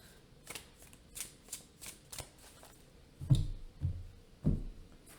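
Tarot cards handled and shuffled close by, soft riffling and flicking at first, then several heavier slaps and taps as the deck is squared and set down.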